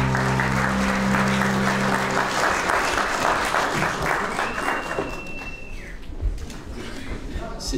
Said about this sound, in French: Je vous demande d'applaudir Jean-François Roubaud.